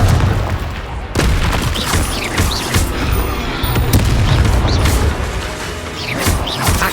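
Fire spell explosions from Hogwarts Legacy boom again and again in a dense, loud, chaotic combat mix, with sharp blasts layered over a constant low rumble and no clear gaps between them.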